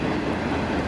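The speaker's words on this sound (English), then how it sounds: "There's a train over there." A nearby train passing, a loud, steady rumble that fills the whole brief moment with no pause and no talk over it.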